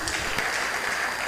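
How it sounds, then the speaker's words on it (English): A round of applause fills a conference hall at an international conference on women's role in inclusive growth, a fairly quiet, even wash of clapping from a distant audience lasting just over a second. "One big round of applause,"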